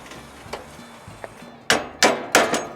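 Hammer strikes locking a part down, three loud sharp metallic blows near the end following lighter taps, close by with a humming background.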